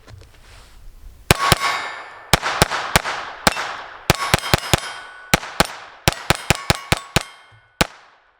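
Sig P322 .22 pistol firing Armscor ammunition, a rapid string of about twenty loud, sharp ringing shots in uneven bursts, close and clear with metallic ring between reports.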